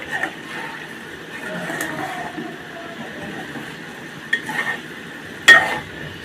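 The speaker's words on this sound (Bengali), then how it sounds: "সিদ্ধ না হওয়া পর্যন্ত কষাইতে হবে।" Potatoes being stir-fried in a pan for a rohu fish oil curry, a soft continuous sizzle with occasional scraping spatula strokes, one sharper metallic clack near the end, fairly quiet and close.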